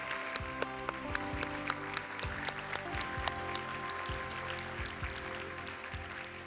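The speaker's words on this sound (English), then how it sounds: "please let's have a round of applause to congratulate the recipients of these awards" Audience applause at a nursing education awards ceremony, moderate and steady under a sustained musical chord with a repeating low bass pattern.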